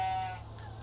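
A single short sheep bleat from the video game Minecraft, clear and close, fading out quickly over a low background hum.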